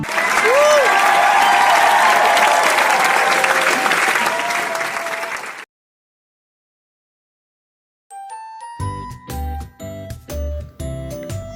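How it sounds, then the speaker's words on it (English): Audience applause at a student puppet show, a dense burst of clapping for about five seconds that tapers off, followed by silence and then tinkling chime-like music. "Everyone, give a round of applause."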